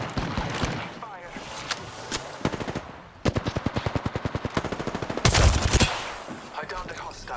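Rapid automatic weapon fire from the Apex Legends video game rattles in quick bursts, with a louder blast near the end, over game sounds and a character's voice.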